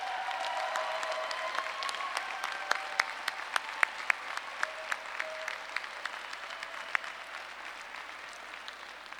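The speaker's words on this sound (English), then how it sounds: "how about a big round of applause for the family and friends who've been supporting you" Audience applause at a Sir Sandford Fleming College convocation in 2017, a broad, steady ovation from a large hall with a few sharp individual claps standing out, gradually thinning toward the end.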